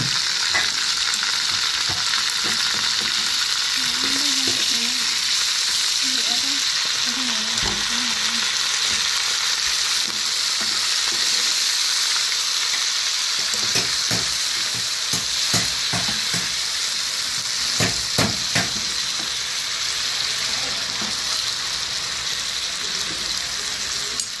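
Shrimp fry in butter and garlic with a loud, steady sizzle and occasional stirring, continuing without talk throughout.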